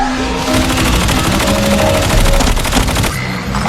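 Rapid automatic gunfire from a mythic-class weapon in Call of Duty Mobile, a dense continuous burst of rattling shots running nearly the whole time at steady loud level, with a brief lull near the end.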